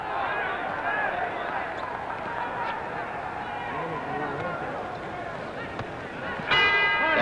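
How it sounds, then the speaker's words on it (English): At Madison Square Garden a boxing ring bell rings to end round nine, a bright ringing tone near the close, heard over a loud crowd roar and an announcer's voice. "There's the bell."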